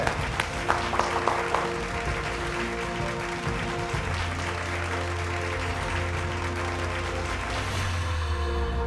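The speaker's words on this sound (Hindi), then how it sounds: "एक बार जोरदार तालियों से स्वागत करिए" An audience claps at a Bhojpuri awards ceremony, a steady wash of applause over sustained stage music, with a few sharper claps standing out early on.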